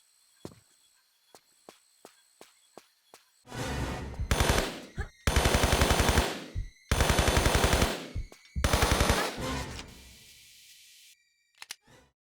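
Enemy gunfire in Tomb Raider 3 Remastered: several long, loud bursts of rapid automatic fire, separated by short gaps, preceded by a few faint ticks and clicks and ending with isolated shots.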